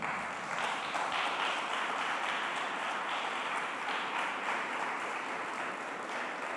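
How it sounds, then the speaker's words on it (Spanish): A church congregation applauds in praise during a Spanish-language sermon, a dense, steady wash of many hands clapping that holds at an even level throughout. "Denle un aplauso al Señor"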